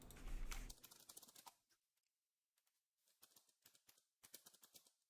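Keys clatter on a computer keyboard in quick, uneven bursts of light clicks after a louder opening noise, with pauses between runs and no speech.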